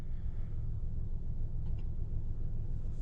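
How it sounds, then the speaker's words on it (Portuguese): A 2021 Chevrolet Onix Plus 1.0 turbo Premier sedan with a six-speed automatic idles quietly, giving a low, even rumble that stays steady throughout, with no one talking. "O motor dele é bem silencioso."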